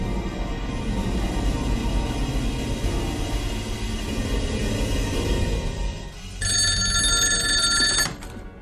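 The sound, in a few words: telephone ringing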